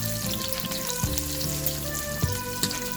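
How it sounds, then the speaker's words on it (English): Onion and garlic fry in a pan for mung bean soup, a steady close sizzle with a few scraping stir knocks of a utensil against the pan, no voices over it. "So the onion is fried a little bit. Follow the garlic."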